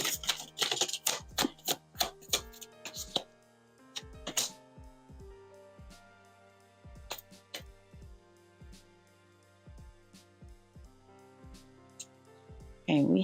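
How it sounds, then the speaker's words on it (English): Someone handles and shuffles a tarot card deck, producing a quick flurry of papery snaps at first, then sparse, separate card clicks over soft sustained background music. "I'm going to shuffle another tarot deck."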